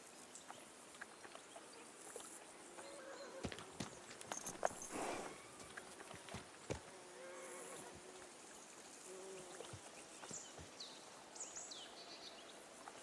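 Horse hooves clip-clopping at a walk in the medieval game Kingdom Come: Deliverance 2, scattered soft thuds against a quiet outdoor bed of trickling water, insects and birds.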